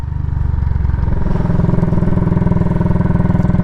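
A Royal Enfield Military Classic 500 single-cylinder motorcycle, roughly 27 horsepower, runs close by with a loud, rapid, even thumping pulse that holds steady throughout, rising slightly as if lightly revved, with no talk.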